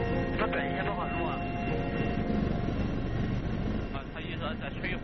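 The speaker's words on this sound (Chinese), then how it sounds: "当直升机离降落点越来越近" Military helicopter near its landing point, a loud continuous rotor and engine roar that holds steady and dips slightly near the end, with crew voices talking over it.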